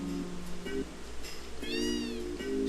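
A cartoonish cat meows once in the video game Final Fantasy VII, a rising and falling cry set against bright, plinking game music in a quiet room.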